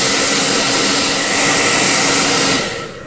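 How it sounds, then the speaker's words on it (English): A handheld hair dryer blows steadily at close range, drying denatured alcohol on a CZ P-09 pistol grip before grip tape is applied, a loud continuous whoosh that cuts off at the end. "Now you're going to need a hairdryer, which I happen to have one."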